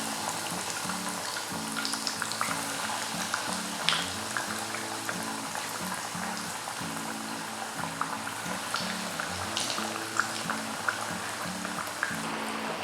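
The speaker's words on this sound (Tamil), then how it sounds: "ஸோ எண்ணெய் வந்து நல்லா சூடாயிடுச்சு. ஸோ வடையை போட ஆரம்பிச்சிடுறேன்." Chicken vadai frying in hot oil, a steady crackling sizzle with fine bubbling pops and intermittent sharper spits, close and moderately loud throughout.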